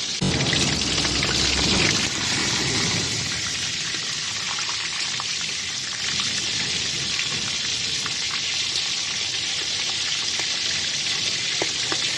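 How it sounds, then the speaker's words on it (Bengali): Fish heads, coated in turmeric and salt, fry in hot oil with a steady, loud, dense sizzle and crackle. It starts in a stronger burst, then holds evenly close up, with no talk over it. "তেলটা গরম হয়ে এসছে, মাছের মাথাগুলো ছেড়ে দেবো।"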